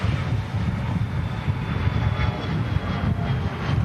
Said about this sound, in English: TUI Dreamliner being pushed back as well